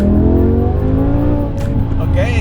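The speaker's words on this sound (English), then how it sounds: "Okay, that was wheel spin." A BMW 850i fitted with a V10 engine accelerates hard with wheel spin, its loud engine note rising in pitch up close, while a voice talks over it.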